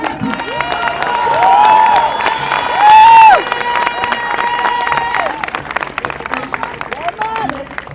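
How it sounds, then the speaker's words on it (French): A large outdoor crowd at a Paris march against racism and for dignity applauds and cheers a speaker, with clapping, whistles and shouts filling the air continuously, and voices carrying through the noise. "Merci d'applaudir Ahmed Bentoussi."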